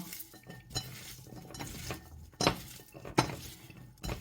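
Shallots are tossed and mixed in a bowl, with quiet scraping and several sharp clinks of a utensil against the dish.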